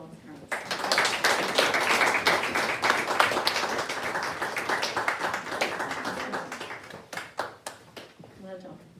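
Graduates at a 2021 graduation ceremony clap in a burst of scattered applause that swells quickly and then thins out, with voices chattering underneath.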